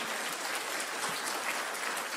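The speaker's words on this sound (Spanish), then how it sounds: "Dale otro fuerte aplauso al Todopoderoso." Church congregation applauding during a sermon, a dense, even roar of many hands clapping that holds steady for the whole stretch, with no voice over it.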